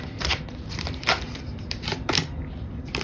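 Tarot cards are shuffled close by, giving soft papery riffles and rustles in several short bursts with brief pauses between them.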